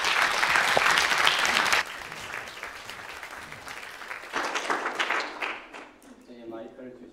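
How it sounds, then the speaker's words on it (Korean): Church congregation at a Sunday worship service clapping loudly in welcome, a dense burst of applause that drops after a couple of seconds and continues more sparsely, with voices mixed in. "나오실 때 우리 박수로 크게 환영하겠습니다"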